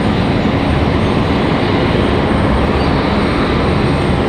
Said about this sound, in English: Let's go over and check on this C-130 one more time. Did they shut them down, or are they still running?